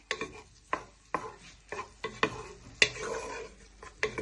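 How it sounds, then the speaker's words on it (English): Cumberland pork sausages frying in a pan are stirred with a wooden spoon, giving a series of sharp knocks and scrapes about every half second over a soft sizzle, close and clear with no talking. "You want to use your wooden spoon and just give these a good stir."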